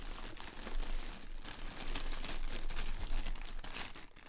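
Close, continuous crinkling and rustling of a black plastic bag being handled, with no voices.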